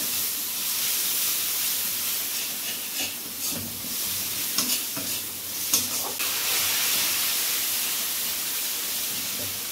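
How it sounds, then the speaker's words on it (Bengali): Spices such as cumin and coriander powder sizzle steadily while being stirred and sautéed in a pan, with occasional scraping clicks over a constant close frying hiss. "দিয়ে সমস্ত মশলাগুলো এবার কষানো হচ্ছে।"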